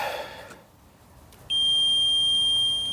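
A multimeter beeps during a continuity test on the charging circuit of a Skoda 120: after a moment of quiet, one steady, piercing electronic tone sounds close by and holds unbroken.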